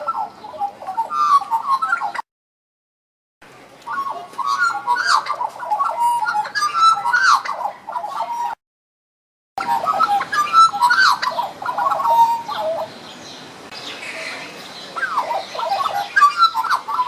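Two birds calling back and forth in a duet, a mix of squawks, whistles and ticking notes that come in bursts and break off twice into brief silence, fairly close and clear.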